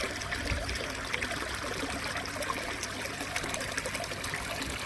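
Water from a shower outlet trickles and splashes steadily into a fish tank holding tosai koi, a continuous close bubbling patter with no break.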